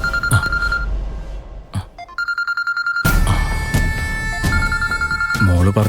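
A telephone rings for an incoming call in an indoor domestic scene from a Malayalam TV serial. Bright electronic ring bursts repeat in a quick pulsing pattern, close and clear, amid other household sounds.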